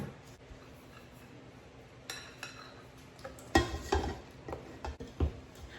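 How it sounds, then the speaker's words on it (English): Flour and oat mixture being mixed into oatmeal raisin cookie dough in a mixing bowl, with a quiet scraping start building into louder clinks and thumps of a spoon against the bowl toward the end. "We're gonna mix it up now."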